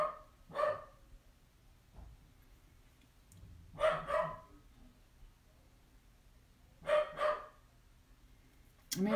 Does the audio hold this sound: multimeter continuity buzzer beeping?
no